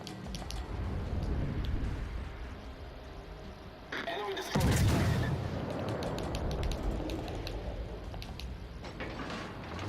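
The guns of the cruiser USS Cleveland fire from behind island cover in a naval warfare video game, with a loud booming salvo in the middle over a steady engine and sea rumble and scattered mechanical clicks.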